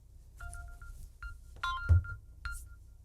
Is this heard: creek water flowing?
no